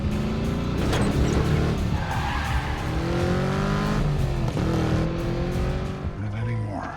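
A car arriving in an action film scene with loud tire squeal and skidding, engine roaring close by amid a busy, layered soundtrack with music-like tones.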